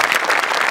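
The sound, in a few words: audience applause for comedian Gaurav More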